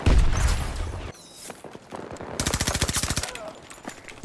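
A mounted machine-gun turret in Battlefield 2042 fires a rapid, steady burst of shots after a loud boom and blasts at the start. The sound is close and heavy, with a player's voice briefly over the game audio.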